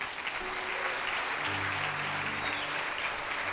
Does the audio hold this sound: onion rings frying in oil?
no